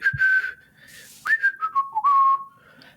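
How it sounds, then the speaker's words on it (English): Whistled tones from a person, a few short phrases of clear, fairly loud whistling with brief pauses between notes, close by and with no talking over it. "Why exactly are you whistling?"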